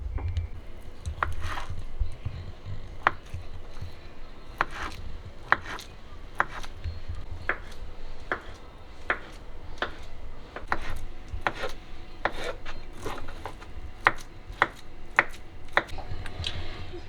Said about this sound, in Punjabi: ਆਲੂ ਆਪਾਂ ਕੱਟ ਲਿਆ